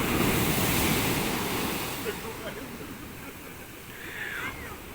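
Ocean surf washes onto a stony beach on a cold, windy day, a loud, continuous roar that eases after the first couple of seconds, with wind buffeting the microphone throughout.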